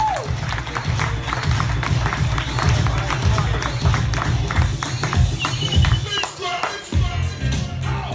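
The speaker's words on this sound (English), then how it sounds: "you know how to clap, scream and cheer" Comedy-club audience at a tavern stand-up night clapping, screaming and cheering as a comedian is welcomed to the stage; dense sustained applause with whoops, briefly dipping near the end before swelling again.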